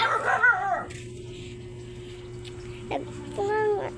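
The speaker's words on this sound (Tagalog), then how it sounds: "Ito kasi yung tuta na yan." A puppy yipping and whimpering in short, high-pitched bursts near the start, then a quiet stretch, then another bout of yelps, heard close over a steady background hum.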